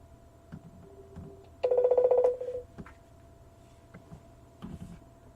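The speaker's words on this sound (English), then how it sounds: "Pick up the phone." A phone in a video game rings in a single short electronic burst of about half a second. The ring stands out clearly over a quiet background with faint clicks.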